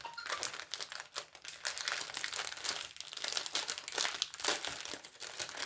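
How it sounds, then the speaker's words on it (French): Plastic packets of diamond painting diamonds being opened by hand, close and busy crinkling and rustling with short tearing crackles, no talk. "Et on va ouvrir des diamants."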